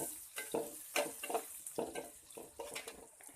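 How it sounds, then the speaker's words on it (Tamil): Onions are sautéed in a pan for tiffin sambar, a quiet sizzle broken by rhythmic scraping strokes of a spatula, each stir a short swishing burst close to the microphone. "வெங்காயத்தை சேர்த்துட்டு வெங்காயம் ஒரு அரை பருவம் வதங்கி வர்ற வரைக்கும் வதக்கி எடுத்துக்கலாம்."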